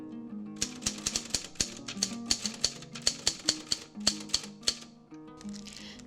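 An Adler typewriter is typed on in a quick run of sharp, distinct key strikes with brief pauses, close and clear in a quiet room.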